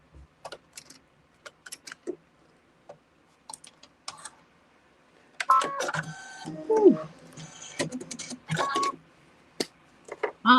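A sewing machine running its automatic needle threader while piecing quilt blocks: scattered light clicks, then a few seconds of close mechanical whirring and clunking, with more taps afterward.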